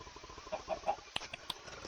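Chickens clucking in Minecraft, modded with dragons, a few short clucks with several sharp blips at moderate level over a faint background.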